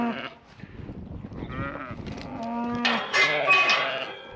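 Farm livestock bleating and lowing close by, loud calls with harmonic tones rising over a busy farmyard background, sheep and cattle-like cries overlapping through most of the stretch.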